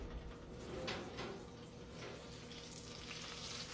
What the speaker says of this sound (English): it's got that little sizzle to it